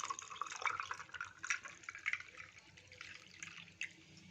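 Water is poured into a lemon drink with ice cubes, a close, bright splashing trickle that runs steadily for several seconds with small clinks and drips, no talking.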